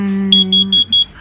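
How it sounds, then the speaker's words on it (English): An unidentified house alarm sounding indoors, a loud high beep pulsing in a quick repeating pattern of about five short tones, following a low steady hum. "Which alarm is it? It's not the fire alarms, and it's not the security alarms."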